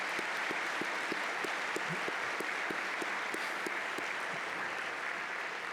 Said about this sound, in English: Will you offer a round of applause for these folks?